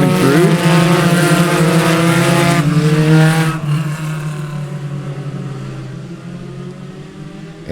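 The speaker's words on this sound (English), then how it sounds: "here comes your leaders in the Spec Racer Ford race" Spec Racer Ford race cars from an SCCA race at Sebring roar past on the track, loud and close at first with a rising then falling engine note, fading steadily into the distance.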